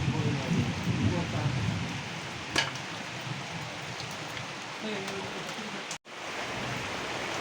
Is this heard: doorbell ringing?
no